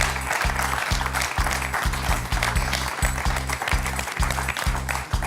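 Studio audience applause for a contestant on a French television quiz show, steady claps over a pulsing rhythmic music bed, fairly loud and continuous.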